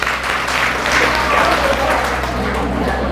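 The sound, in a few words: applause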